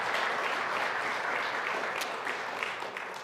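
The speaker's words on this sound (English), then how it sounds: "big round of applause to all of them" Steady applause from an audience at a charity auction event, a dense even wash of clapping that holds throughout and tapers slightly at the end.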